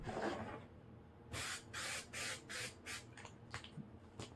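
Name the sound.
spray glue being sprayed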